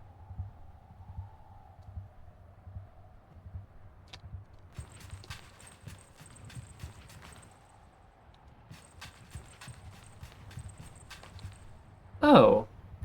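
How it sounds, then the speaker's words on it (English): A soft, regular heartbeat-like pulse from the hoverbike in the video game Sable, repeating steadily over a low hum and joined by faint clip-clop ticking, fairly quiet, with a sudden loud burst near the end. "My bike has a little heartbeat."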